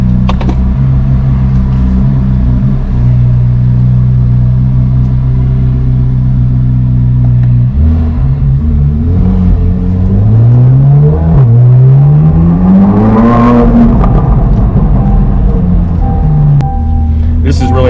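A 2023 Chevrolet Corvette Z06 engine heard up close: a steady low idle drone, then a sharp rising rev that climbs and falls back, with a voice speaking over parts of it.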